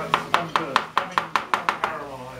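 Nine evenly spaced knife chops strike a chopping board during curry preparation, crisp and close, each a sharp thud with a brief ring, slowing slightly before stopping.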